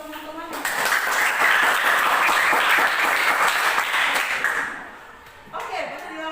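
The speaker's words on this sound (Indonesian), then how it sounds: "Ya, berikan aplaus untuk teman-teman." An audience claps for performers at a teacher training session, a dense burst of applause that swells quickly, holds for several seconds and fades, with a voice speaking before and after.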